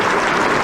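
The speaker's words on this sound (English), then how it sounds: "Please give him a big round of applause." A banquet audience in Los Angeles claps together at a dinner attended by Taiwan's president, the applause dense and continuous in a brief burst.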